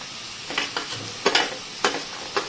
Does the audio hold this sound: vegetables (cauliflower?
yes